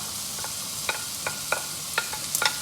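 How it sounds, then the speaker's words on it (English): Sofrito and a vegetable mix hit a hot pan with olive oil for a sausage ragu, giving a soft, steady sizzle broken by several sharp stirring scrapes and clicks, close by, with no talking. "And then I'm gonna go in with my sofrito and my vegetable mix"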